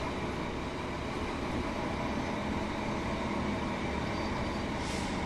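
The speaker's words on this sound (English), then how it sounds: "But this is my Class 150 Regional Railways train set" A Class 150 Regional Railways diesel multiple unit runs steadily in Train Sim World 3, giving a continuous broadband rumble and rolling noise at even loudness, with a brief hiss near the end.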